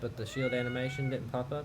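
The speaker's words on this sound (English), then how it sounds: "Sorry, that's my cat." A house cat meows a few times close by, high-pitched cries sitting under a man's continuous speech during Pokémon battle commentary.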